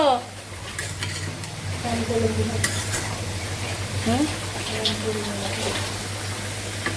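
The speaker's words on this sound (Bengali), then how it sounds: "এই যে নিরামিষ সুন্দর করে রান্না করছে" A vegetarian curry is stirred in a pan, sizzling and frying steadily close by, while a spoon scrapes the pan in repeated strokes and voices talk over the cooking.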